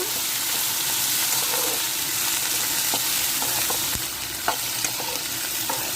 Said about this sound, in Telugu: అలాగే ఉల్లిపాయలు బాగా వేగిపోవాలండి బాగా ఎర్రగా వేగిపోవాలి